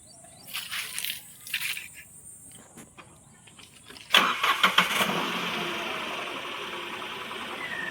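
A car engine cranks and catches at the midpoint, then settles into a steady idle hum. Before that come a few clicks and knocks, with faint insects chirping in the background.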